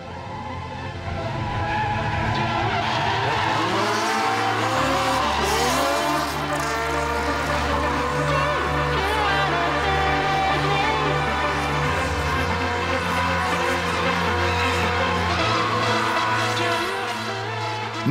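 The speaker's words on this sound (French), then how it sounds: "Nous voyons ici comment Terry fait glisser les deux voitures en même temps" Two stunt cars, one an English-built TVR Sagaris with a six-cylinder engine over 200 horsepower, skid together with sustained loud tire squeal over rumbling, revving engines, close and continuous throughout.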